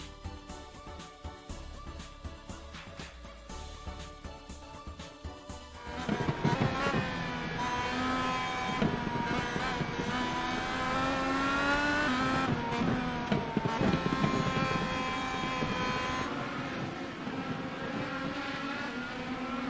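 IndyCar race cars battle for the lead at Lime Rock Park, engines roaring and pitching up and down as they pass, a steady loud rush of racing noise that builds after a quieter opening.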